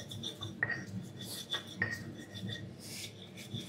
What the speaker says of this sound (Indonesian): Aku ulek dulu. Aku kasih garam nguleknya biar gampang